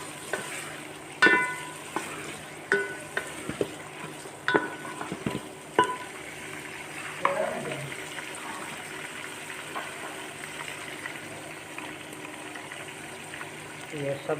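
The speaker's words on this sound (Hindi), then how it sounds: "इसको थोड़ा भूनना है, इस तरीके से भूनना है ताकि ये इसमें कलर आ जाए" Chicken frying with spices in a pan for a desi chicken dish, a soft sizzle under repeated scraping and knocking of a stirring spoon, several sharp taps spaced through the stretch.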